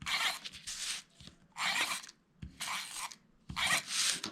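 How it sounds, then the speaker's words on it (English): A tape runner rasps along the edges of wrapping paper in four short, close scraping strokes separated by brief pauses. "I am going to use my tape runner and place tape on the wrapping paper edges"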